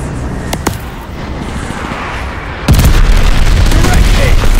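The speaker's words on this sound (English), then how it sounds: "Friendly bombing run inbound." Friendly bombing run in Call of Duty: Vanguard, a loud deep boom that breaks in partway through and leaves a dense, rumbling wash of explosions over sharp earlier shots.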